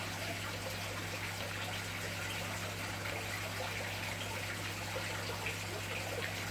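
Boiling water poured in a steady, continuous gushing stream, fairly quiet, with a constant low hum underneath and no talking.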